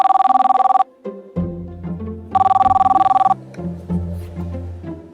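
A telephone bell rings loudly in two clear bursts of rapid repeated trills, with quieter tonal sounds in the pauses between rings.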